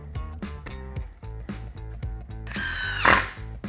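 A DeWalt impact driver runs at speed 1 in a series of short, regular motor whirs, ending in a brighter burst of rapid rattling impacts; close and loud, with no talk.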